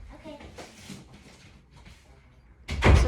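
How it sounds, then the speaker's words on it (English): An indoor door shuts with a single loud thud at the very end, after a stretch of quiet talking nearby. "Make sure you close the door."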